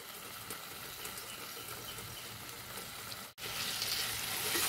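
Tomato and chili flakes fry in a pan with a close, steady sizzle and faint stirring, briefly cutting out before resuming slightly louder.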